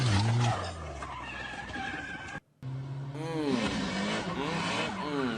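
A Nissan S chassis car drifts with loud, wavering tire squeal and engine noise. There is a brief dropout midway, then the sliding squeal returns, and voices can be heard in the mix.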